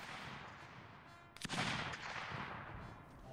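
Rifle fire in a 95th Rifles battle reenactment at Blakely: a sharp shot near the middle, then a rolling outdoor rumble over steady wind noise and distant crowd, no clear talk.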